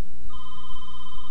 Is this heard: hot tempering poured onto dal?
no